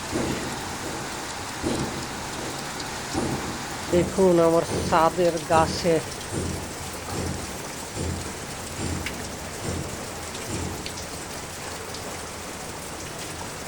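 Heavy morning rain pours steadily onto a rooftop garden, a dense continuous hiss with drips, while someone speaks briefly over it in the middle.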